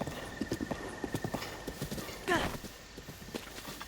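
Horse hooves clip-clop at a steady trot in Zelda: Breath of the Wild, with a short neigh midway, the footfalls continuing lightly around it.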